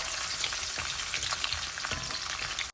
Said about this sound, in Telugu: ఇప్పుడు ఇందులో నేను కిస్మిస్, జీడిపప్పు వేస్తున్నాను